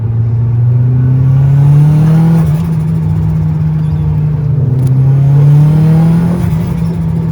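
A loud, sustained 4G93 SOHC turbo engine drone on a dyno, revving up and down in long sweeps, heavy and close, running continuously with no pause.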